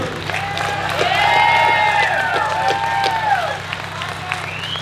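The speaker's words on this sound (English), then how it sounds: "Let's hear it for Brody" A crowd claps and cheers, with loud whoops and shouts rising over the applause, then gradually settling.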